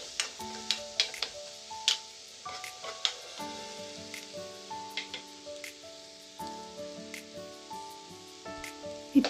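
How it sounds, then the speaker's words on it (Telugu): Thinly sliced ridge gourd pieces fry in a pan with a steady sizzle, broken by regular clinks and scrapes of stirring. Faint tonal background sounds run underneath. "ఇప్పుడు ఇందులోకి సన్నగా కట్ చేసుకున్న బీరకాయ ముక్కలు కూడా వేసుకుంటున్నాను"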